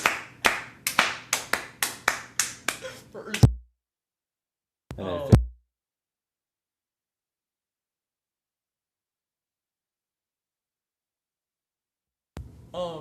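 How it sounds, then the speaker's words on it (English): Hands clap sharply and close by, about a dozen quick claps in an uneven rhythm over a few seconds, then stop abruptly; a short voice follows, then a long silence. "Just start clapping."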